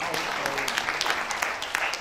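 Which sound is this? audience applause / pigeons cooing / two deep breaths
audience applause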